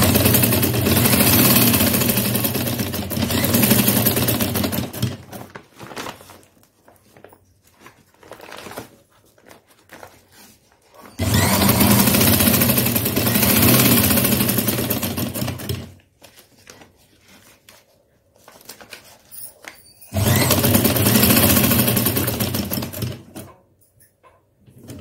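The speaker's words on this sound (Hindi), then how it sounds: "चलिए इसको मोड़ के सिलाई कर देते हैं।" Sewing machine stitching a bag made from a plastic sack: three long bursts of fast, steady mechanical rattling, close and loud, separated by near-silent pauses.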